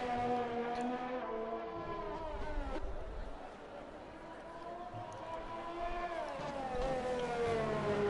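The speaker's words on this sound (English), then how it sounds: "So we got a whole bunch of cars here behind each other." Several racing cars run nose to tail in a long train on the Belgium circuit in a racing game, their engines droning steadily throughout with rising and falling pitch, under a speaking voice.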